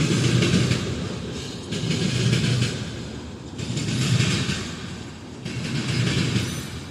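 A freight train rolls past at Van Loon, a continuous rumble with rhythmic surges as railcars pass, moderately loud and close, with no voices.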